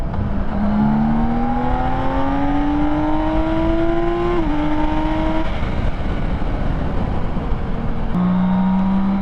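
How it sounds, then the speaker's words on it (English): 2022 BMW K1600 touring motorcycle engine running smoothly under way, its tone climbing steadily then dropping with a gear shift, heard over loud steady wind noise. "The engine is silk."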